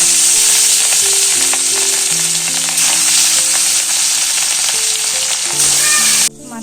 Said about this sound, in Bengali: এখানে মাছ আর মাছের মাথা হলুদ আর লবণ দিয়ে মেখে রেখে দিয়েছি, এখন ভাজবো।